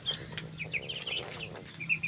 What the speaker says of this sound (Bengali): এই চীনা হাঁসের বাচ্চাগুলা কি সুন্দর সুন্দর বাচ্চায় দেখুন